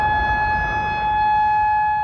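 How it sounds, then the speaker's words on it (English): A loud tornado warning siren holds one steady, piercing tone, unbroken from start to finish. "A warning siren."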